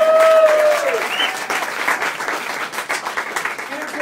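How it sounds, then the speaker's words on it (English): An audience at a book launch party applauds the publisher Clarion Books, a dense burst of clapping that is loudest at the start and then thins slightly. A voice speaks briefly at the beginning. "A huge round of applause to Clarion Books"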